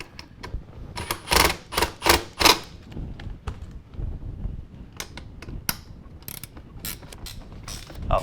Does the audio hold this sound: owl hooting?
no